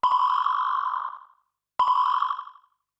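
Two identical sample hits from an SP-404 MK2 processed with reverb and delay, each starting with a sharp click and trailing off into a smooth, fading reverberant tail, separated by silence.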